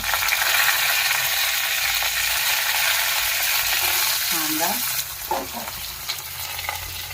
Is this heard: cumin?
yes